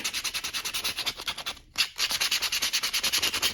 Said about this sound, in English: I'm gonna grab my sandpaper sheet and I'm just gonna scuff everything up